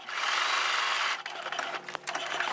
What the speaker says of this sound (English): So I'm sewing from the end to my pin.